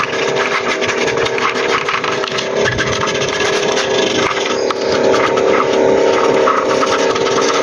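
A brush scrubs the damp ports of a computer motherboard during cleaning, a loud continuous rough rubbing and swishing close up, with no talking.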